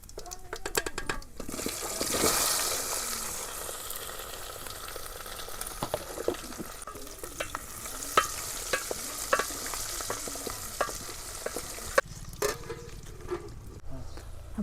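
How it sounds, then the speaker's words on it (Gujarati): Stuffed gunda frying in hot oil with mustard seeds and cumin, a steady close sizzle with stirring scrapes and sharp spluttering pops throughout, a brief louder hiss early on. "हवे तेल आवे पछी एमां आपणे गुंदा नाखवाना छे।"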